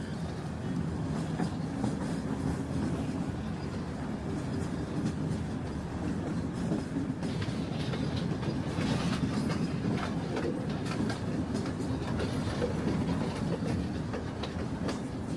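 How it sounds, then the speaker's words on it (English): A train rolls steadily along the rails toward Ella in Sri Lanka's hill country with a continuous rumble and faint clickety-clack, close and constant throughout with no talking. "After traveling a bit by train, we finally reached Ella."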